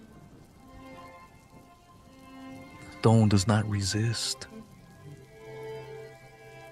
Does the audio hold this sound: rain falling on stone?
yes